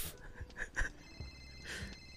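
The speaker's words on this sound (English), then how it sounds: "Is that your phone? She's calling you." A phone rings with short electronic tones in a quick, repeating pattern, fairly faint and somewhat muffled in a room, with no clear talk over it.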